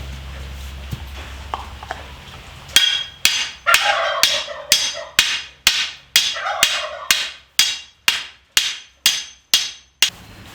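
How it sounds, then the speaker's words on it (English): Steel T-posts are driven into the ground with a hammer: about fifteen loud metallic strikes land at a steady, regular rhythm, each one ringing briefly before the next, after a quieter lead-in. "I don't have a post hole driver, but I got my T-post and a hammer."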